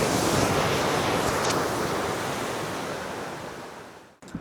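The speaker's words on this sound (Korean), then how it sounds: "아, 폭포 소리 장난 아니다" A stepped waterfall in a mountain setting of Banff National Park sends up a steady, loud, broadband roar of rushing water that fills the scene without pause and drops off abruptly at the very end.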